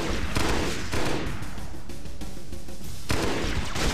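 Rapid automatic gunfire in the Halo Combat Evolved SPV3 game, a loud continuous burst of weapon shots that eases briefly in the middle and then resumes at full strength.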